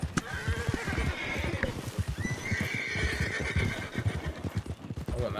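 A horse in the video game Red Dead Online whinnies in long drawn-out neighs, over steady rhythmic clip-clopping hooves throughout, with a faint voice in the background.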